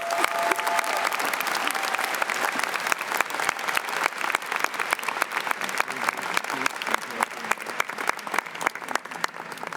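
A convocation audience at a college graduation ceremony breaks into sustained applause, a dense, even wash of many hands clapping that carries on steadily without pause, with a brief tone near the start.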